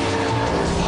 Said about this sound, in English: A wailing V8 sounding glorious.